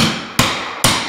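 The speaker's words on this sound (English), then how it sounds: "I'm gonna take the hammer and hit it in there a little bit." Two sharp, close hammer taps drive a pry tool in behind a baseboard during baseboard removal, evenly spaced about half a second apart.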